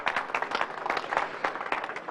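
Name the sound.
applause, clapping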